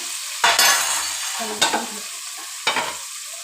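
Onions and dried red chillies for sambar hit hot oil in a pan and sizzle loudly, with three distinct bursts of frying as ingredients go in and get stirred, a continuous hiss between them and no talking.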